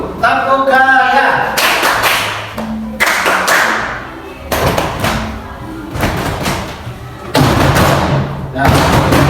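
A class of students claps together in a rhythmic clapping game, loud bursts of group clapping separated by short pauses, with voices calling out in between.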